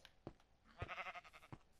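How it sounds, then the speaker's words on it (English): A Minecraft sheep gives a few short, close bleats, with one longer wavering cry in the middle, heard alone without talk. "It's Shaun the sheep"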